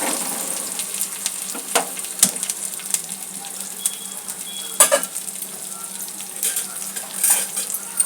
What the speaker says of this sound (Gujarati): લીલા મરચાંને મિક્સ કરીશું અને થોડી વાર લીલા મરચાંને થવા દઈશું।